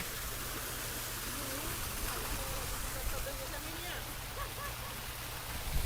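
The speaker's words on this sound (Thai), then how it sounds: "เราเพิ่งเปิดน้ำนี่คือน้ำสองท่อของเรา" Steady rushing hiss of water pouring from two pipes into a newly opened artificial waterfall, a constant near wash with faint voices talking underneath.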